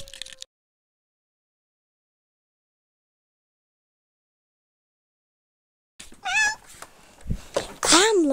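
After a long silence, a person voices a few rising, whiny cat meows at close range, the imitation ending in a louder, drawn-out yowl.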